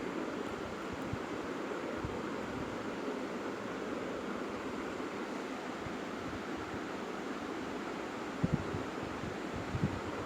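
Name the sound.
water falling in the background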